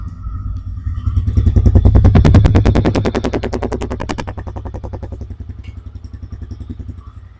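A Runner motorcycle's engine runs close by, its firing pulses forming a loud, steady throbbing beat that swells around the second or two mark and then settles back to an even idle.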